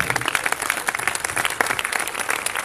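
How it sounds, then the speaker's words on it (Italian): A crowd claps steadily at a club event on stage for Ascoli Calcio, welcoming the football club's president Giuliano Tosti; dense, continuous applause fills the whole stretch at moderate distance. "Forse c'è l'applauso ma non c'è lui?"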